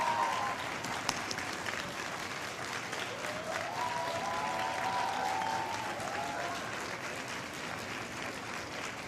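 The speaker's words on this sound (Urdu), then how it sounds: "وہ کھڑے ہو کر اپنے ماں باپ کے لیے، پیرنٹس کے لیے بہت زوردار تالیاں بجائیں" Students at a school gathering stand and clap loudly for their parents, a dense sustained roar of applause lasting about nine seconds, with faint voices mixed in.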